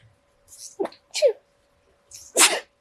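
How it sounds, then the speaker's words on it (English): A few sharp intakes of breath build up, followed by one loud, explosive sneeze close to the microphone in an otherwise quiet room. "I'm gonna sneeze, hold on."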